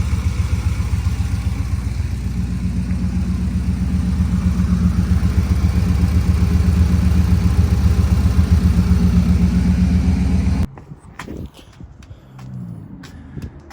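A square-body truck engine with a big-block and Holley Sniper fuel injection idles steadily with a loud, even low rumble and faint whine for several seconds, then cuts off abruptly to quiet clicks.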